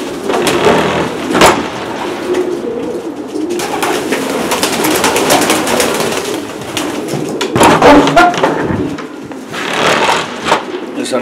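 Racing pigeons coo in a loft among a noted Irish fancier's birds, a steady murmur of soft repeated calls close by with some shuffling and handling noise.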